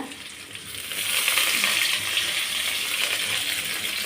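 Onion, dried red chilies and curry leaves frying in a pan for a quick festival sundal, a steady broadband sizzle that swells after the first second and holds loud and close, with light stirring and no talk.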